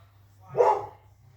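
One short dog bark, fairly close, over a low steady hum.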